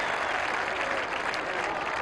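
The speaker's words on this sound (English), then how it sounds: "The applause is for Michael Gardner, who's going to have a well-earned rest." A stadium crowd applauds steadily at a 2000 Australian football match between West Coast Eagles and Fremantle. The clapping sounds dense and distant, with no breaks.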